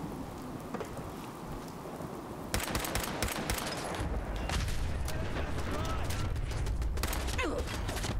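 Turret gunfire in the video game Fallout 4, dense rapid bursts crackling under a roar of noise, getting louder partway through, with no speech.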